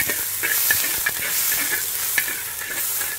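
Onion and garlic frying in a pan with a steady close sizzle, broken by repeated scraping stirs of a utensil against the pan throughout.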